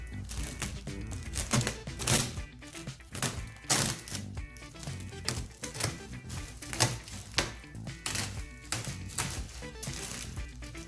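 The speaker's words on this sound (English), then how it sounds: "Let's take it out of the plastic here." A Laguna air cleaner being pulled out of its plastic wrapping in a wood shop, with crinkling, rustling plastic in repeated close bursts and rattles throughout, loud and busy.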